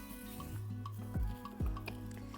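A bun dosa is flipped in a pan and keeps cooking, with a soft steady sizzle and two sharp metallic scrapes or clanks close by from the turning.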